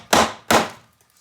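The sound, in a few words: hammer smacked down on AC compressor piece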